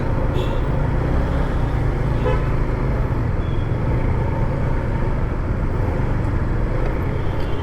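Dense early-morning road traffic in Bangalore, heard from a moving motorbike: a constant loud roar of engines and wind with scattered car horn toots cutting through near and far.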